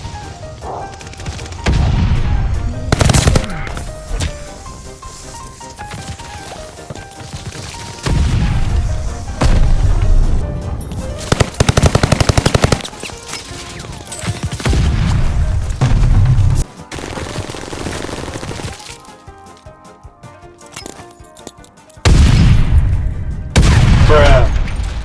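Welding gun firing in Call of Duty: Vanguard, loud bursts of gunfire and booms that repeat in clusters across the stretch, with game effects and short pauses between volleys.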